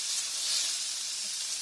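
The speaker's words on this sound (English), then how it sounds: "Hopefully you can hear me over that lovely sizzling chicken." Marinated chicken sizzles on a Ninja Woodfire grill outdoors, a steady, close, bright hiss and crackle with no break and no talk over it.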